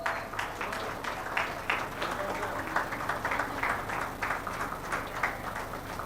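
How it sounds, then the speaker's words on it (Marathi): Steady applause from an audience at a bank's annual general meeting felicitation, continuous moderate clapping filling the whole stretch with no break. "जोरदार टाळ्या वाजवा"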